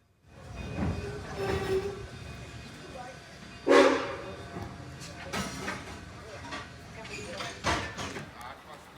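A Cumbres and Toltec train rumbles and slows to a stop at Chama station, with metallic squeals and clanks, voices and a dog barking faintly in the background.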